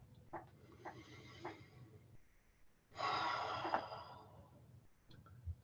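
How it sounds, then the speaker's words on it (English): Slow, deep breaths during a relaxation exercise: a few short inhales, then a long, louder exhale that fades out, close to the listener with no speech. "And then it's just deep breathing"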